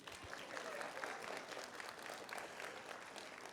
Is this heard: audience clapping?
yes